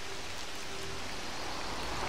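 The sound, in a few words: rain falling in the video game LEGO Jurassic World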